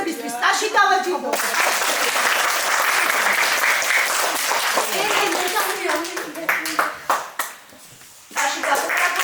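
A crowd at a school ceremony for pupils finishing fourth grade bursts into sustained clapping, which fades briefly near the end and then swells again, with voices mixed in.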